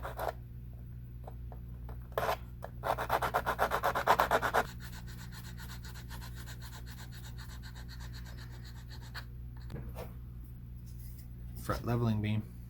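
Excess glue is rubbed or sanded off a guitar during a refit, a burst of brisk scraping strokes at close range over a steady low hum, with quieter scuffs before and after.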